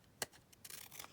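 Paper being cut with scissors into small tags, a sharp snip near the start followed by a few softer crisp cuts, close and fairly quiet with no talking.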